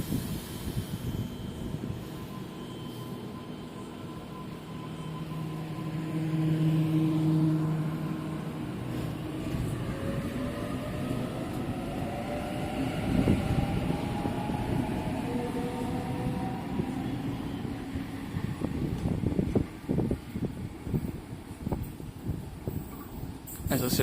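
A Sydney Waratah Series 1 electric train pulls away from Denistone station with a low rumble and rising whine of traction motors, then clattering wheels, while a person talks over it.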